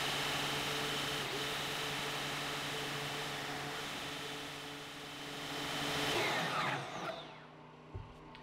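A DeWalt portable bandsaw cutting through thick steel gives a steady, even grinding hum that swells briefly and then winds down at the end.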